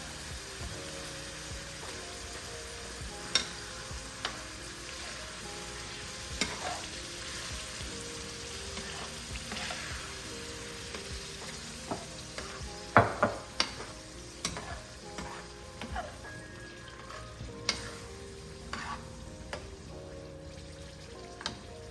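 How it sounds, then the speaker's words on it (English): Spaghetti sauce from jarred tomato sauce being stirred in a pot, a steady scraping swirl with faint sizzling underneath and occasional sharper clinks of the spoon against the pot, close and continuous, with no talking. "Let's stir it up"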